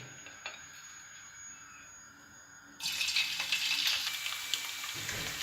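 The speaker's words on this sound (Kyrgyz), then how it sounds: "Андан кийин сковородкага майды куюп, биз бул фаршты кичине кууруп алабыз." Minced meat hits oil in a frying pan: a faint, quiet stretch gives way abruptly to a bright, steady sizzle that stays close and continuous to the end.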